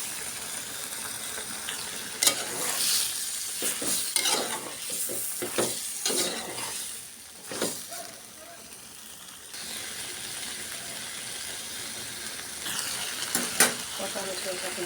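Potatoes and eggplant sizzle in a pan as tomatoes go in for a Bengali fish curry, with steady frying, clattering stirs against the pot and a softer, calmer stretch partway through.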